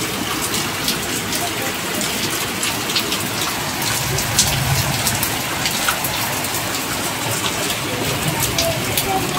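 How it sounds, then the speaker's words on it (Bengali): Heavy rain pours steadily and close by as a dense, even hiss with scattered drip impacts, continuous throughout; no talking is heard over it. "ভালোই বৃষ্টি হচ্ছে"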